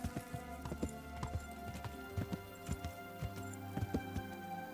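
Horse hooves clop in the medieval video game Kingdom Come: Deliverance, a quick irregular run of hollow knocks over a steady tonal game ambience, quiet and alone.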